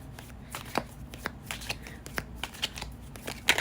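Tarot cards are shuffled up close in a quiet room, giving a steady series of soft riffling and flicking snaps with occasional sharper slaps, and no voices.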